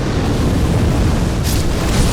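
A dragon's fire blast sweeping the bridge in Dark Souls Remastered, a loud, dense roaring whoosh of flame rumbling continuously with a bright hiss flaring partway through.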